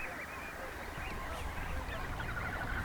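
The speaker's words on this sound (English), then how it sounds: "Like these ducks at Pine Coulee Reservoir." Ducks on Pine Coulee Reservoir in the Porcupine Hills, honking and calling in a steady, busy chorus at moderate distance over constant outdoor background noise.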